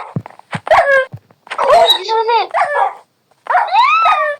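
Dogs in the Minecraft video game bark and yip in quick, loud bursts, some close together, with short gaps between them and no talk over them.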